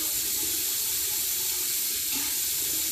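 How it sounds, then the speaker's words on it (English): Tap water running steadily into a sink to wet hair, a constant close hiss and splash with no break, heard alone. "Add some water."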